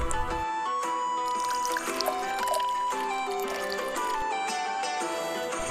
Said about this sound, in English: About 50 ml of hydrogen peroxide. We pour it to the measuring cup.